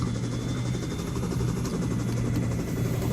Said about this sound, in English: Going to see that fast action under the noise cover of the helicopters.